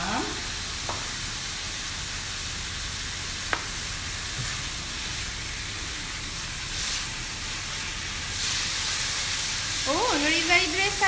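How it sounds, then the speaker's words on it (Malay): Chicken stir-fried in a wok with a pinch of salt, giving a steady close sizzle and hiss with brief stirring scrapes, rising into busier frying near the end. "Kak Zaidah nak masakkan ini ayam ni ya. Okey, kita letak sedikit garam ya"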